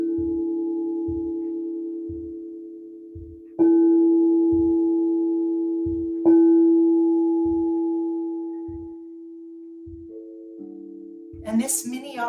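Sustained sound bath tones, likely singing bowls, ring out alone in a guided meditation setting, with a low steady hum, two louder struck swells that slowly fade, regular soft low pulses beneath, and a brighter shimmer near the end.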